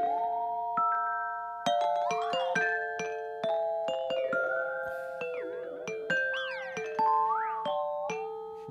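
Synthesized doorbell-like tones from a pitch shifter delay effect ring out in a series of struck notes. Each note sustains and repeats as pitch-shifted echoes that bend and overlap, and some of them glide up or down.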